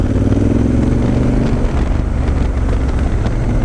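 Honda Africa Twin motorcycle ridden offroad, its engine a loud steady throbbing rumble close to the microphone, mixed with heavy wind buffeting.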